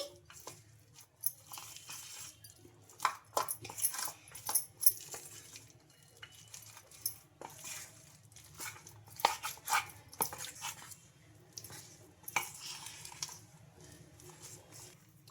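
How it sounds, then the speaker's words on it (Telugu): Peanuts and egg batter are mixed with cornflour in a bowl, making soft, irregular scraping and light clinks of a spoon that come and go in quiet bursts throughout. "బాగా కలిపేసుకోవాలి అంతా మనకు ఇది డ్రై అయిపోవాలండి అంతవరకు కార్న్ఫ్లోర్ వేస్తూ కలుపుకోవాలి"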